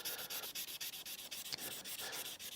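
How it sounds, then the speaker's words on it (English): Hand sanding a knife blade with a sandpaper sanding stick, working crosswise to machine-finish scratches: steady rhythmic strokes of dry abrasive rasp, close and continuous with brief gaps between passes. "I'm sanding 90 degrees to my machine finish scratches."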